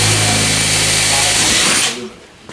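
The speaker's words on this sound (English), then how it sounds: "I'm just drilling all kinds of holes" A power drill whines loudly and steadily while boring holes in fiberglass, then spins down and stops near the end, followed by a brief clunk.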